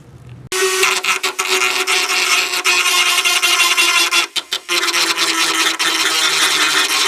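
A carbide cutter grinds motorcycle fairing plastic down to clean material, a loud, close rasping whir that starts abruptly and runs continuously with a few brief dropouts.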